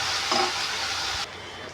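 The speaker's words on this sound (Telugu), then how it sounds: "ఇప్పుడు ఇందులో ఆ టమాటా వేసుకుందాం. బాగా ఫ్రై కావాలి, స్కిన్ అంతా సపరేట్ కావాలి." Tomatoes fry in a hot pan of oil, giving a close, steady sizzle with a short stirring scrape early on and no one talking.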